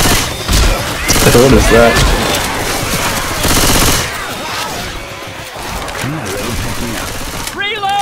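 Rapid automatic gunfire in Left 4 Dead 2 crackles loudly and close in quick bursts, with players talking over the shooting and a brief question spoken partway through.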